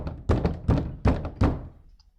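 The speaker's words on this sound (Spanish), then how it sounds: "llamaron a la puerta con un golpe fuerte y seco" Four loud, sharp knocks on a wooden door in a steady, evenly spaced rhythm, close and dry, then fading into quiet.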